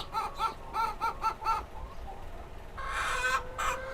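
Chickens clucking at the Queens County Farm Museum: a rapid run of close, clipped clucks, then a brief pause before a louder, harsher burst of fowl calls near the end.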